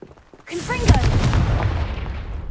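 A Confringo explosive spell from the Hogwarts Legacy video game bursts after a moment of quiet, with a sharp loud blast, brief whistling sparkle, and a long rumbling crackle that fades slowly.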